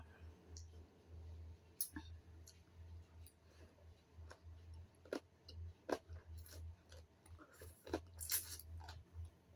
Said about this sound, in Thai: กินส้มตำพี่น้อง